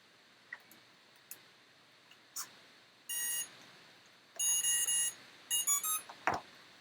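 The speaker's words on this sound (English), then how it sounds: "It's so cute to just hear one BL heli beep at a time." BLHeli ESC motor beeps from an FPV drone wing: a few faint ticks, then loud bursts of high electronic tones sounding one at a time, close and alone.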